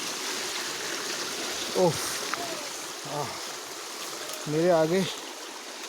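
Fast-flowing water of the Binsar river in forest, a steady loud rushing roar throughout, with brief bird or insect calls and a voice speaking over it.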